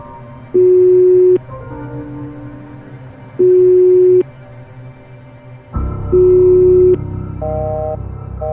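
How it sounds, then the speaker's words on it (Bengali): In an animated horror scene, an unanswered phone call gives three long, evenly spaced electronic tones, loud and clean. Soft synthesized music plays beneath them. "প্রান্ত ফোন ধরছে না কেন?"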